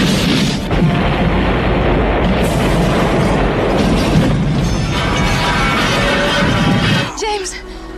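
A loud, sustained explosion of a satellite in space, from the film GoldenEye, rumbles and roars with crackling debris for several seconds, then cuts to quieter sound with a faint voice.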